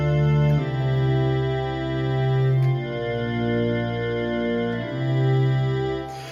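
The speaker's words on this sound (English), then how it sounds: "And it sounds like this if it comes out of the synth." A sustained Prophet-5 synthesizer pad plays a slow sequence of chords with a warm, buzzy low end, steady and fairly loud, no voices.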